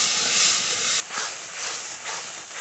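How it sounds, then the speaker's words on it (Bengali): Water splashes into hot frying masala with turmeric in a pan, setting off a loud, steady close-up hiss of steam that drops sharply after about a second to a softer, continuing sizzle. "এবার একটু জল জল দিয়ে ভালো করে কষিয়ে নেবো"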